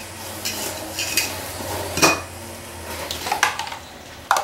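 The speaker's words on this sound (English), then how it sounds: "Scoop this out of here." Thick egg-free mayonnaise scooped from a container with a utensil, producing scattered scraping clinks and soft taps against the container at close range.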